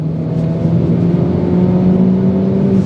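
An Alfa Romeo Giulietta QV 1.7 engine revs and climbs steadily as it accelerates through long gears, a loud continuous drone rising gradually in pitch.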